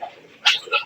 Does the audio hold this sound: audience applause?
no